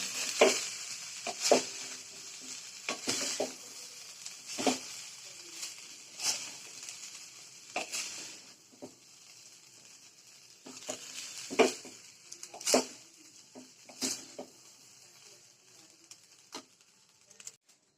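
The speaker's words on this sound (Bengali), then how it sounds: "এবার কিন্তু ভালো করে মেশাতে হবে" Bengali-style fried rice is mixed in a pan with previously fried ingredients, a spatula scraping and knocking against the metal in irregular bursts over a faint, low sizzle.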